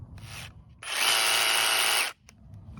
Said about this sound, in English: you take a nice big drill bit, and we started in the corner